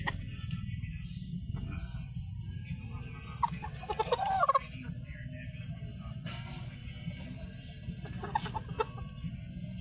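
Chickens cluck and call around a farmyard, with a steady low rumble underneath and a brief burst of busier clucking midway.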